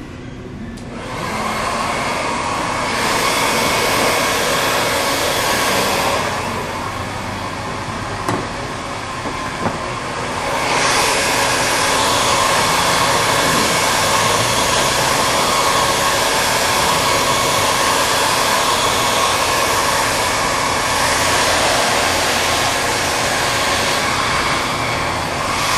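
Hair dryer drying hair at a salon, a loud steady close whoosh and motor whine that dips briefly as it moves away, then returns strongly and runs on alone.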